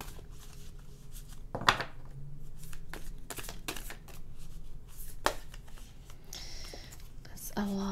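Tarot cards being shuffled in bursts, with crisp riffling flutters and soft slaps between quiet whispered speech.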